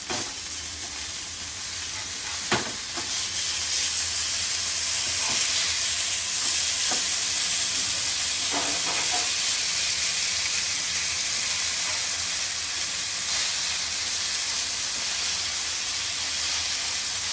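Bombay duck fish fry in a pan with a steady, close, bright sizzle and hiss throughout, punctuated by a few sharp crackles and spatters.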